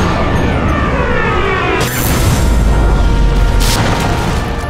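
A grenade blast in the Sniper Elite V2 video game, heard as a loud, sustained rumbling boom with crackling debris over a dense background, with no speech.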